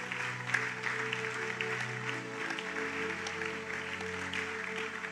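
A church congregation claps and cheers in sustained applause over a low, steady instrumental drone, the clapping dense and moderately loud throughout.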